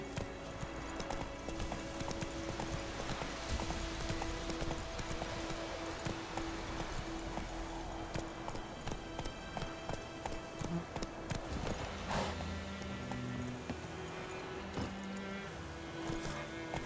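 Roach, a horse in The Witcher 3 video game, gallops with a steady, rapid clip-clop of hooves that runs throughout, close and prominent over a continuous tonal backdrop.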